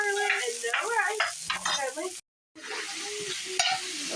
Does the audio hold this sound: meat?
yes